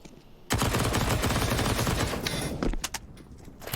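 SMG bursts erupt in Counter-Strike on the Nuke map during a pro match, a dense rapid rattle of shots starting abruptly after a brief quiet, then breaking into a few scattered cracks and footsteps near the end.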